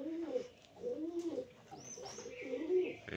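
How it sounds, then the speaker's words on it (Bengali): A pigeon coos at its nest while it arrives to feed two chicks, giving several low, rolling coos in a steady rhythm, close and clear, with faint chirps and background noise around them. "আর এটা হচ্ছে এই যে বাচ্চাদেরকে খাওয়ানোর জন্য আসলো পায়রাটা।"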